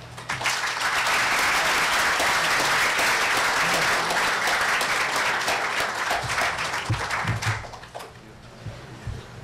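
Audience applause at a civil rights legacy event after a poet's reading, loud and dense dense clapping filling most of the stretch before fading out near the end.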